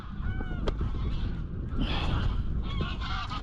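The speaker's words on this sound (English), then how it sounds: "And birds are up again." Over the Humber estuary at East Halton, geese honk in a scattered chorus, several calls overlapping at a moderate distance amid a steady wash of wind and outdoor noise.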